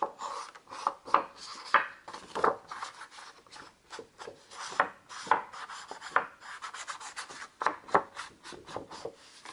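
Paper edges for a scrapbook album are inked by hand, giving a series of soft, close rubbing and scraping strokes in an irregular rhythm with short pauses between passes.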